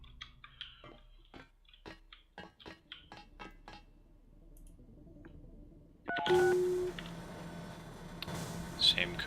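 Keypad code entry in the Deus Ex video game: a run of about eight short, evenly spaced electronic tones, followed by a louder burst of game noise with a brief bright chime.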